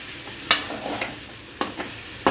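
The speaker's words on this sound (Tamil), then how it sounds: "இப்போ நல்லா அந்த மசாலாலாம் மிக்ஸ் பண்ணிக்கலாங்க." Kothu parotta being stirred with masala in a pan on low flame: a soft sizzle underneath, broken by a few sharp scraping and clanking strokes of the spatula spaced irregularly.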